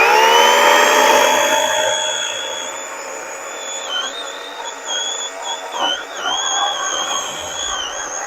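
Chainsaw cutting through log sections on a homestead, a loud, high, steady engine whine that bogs and rises in pitch as the chain works through the wood, near and continuous without talk.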